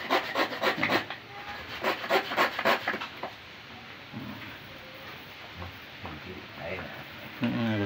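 A small hand saw rasps back and forth in quick, regular strokes, close up, while fitting a keris into its sheath, then stops as quieter rustling and a voice follow.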